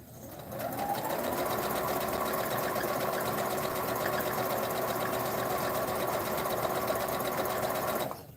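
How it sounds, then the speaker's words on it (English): A sewing machine stitches leftover fabric pieces together, starting up and running at a steady, fast mechanical whir for about seven seconds before stopping, close and alone. "So now I have to just start sewing pieces together."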